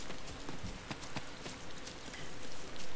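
Steady rain falling in the survival game DayZ, a dense continuous patter of drops on surfaces with scattered closer spatters, moderately loud and alone with no talk.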